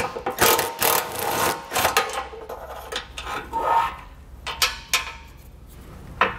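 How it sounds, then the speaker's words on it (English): A ratchet with a 14 mm socket loosens bolts at the hitch area beneath a 2022 Subaru Outback Wagon, giving close, uneven bursts of metallic clicking and rubbing with brief pauses between them. "You're gonna use a 14 millimeter socket. We can pull those out."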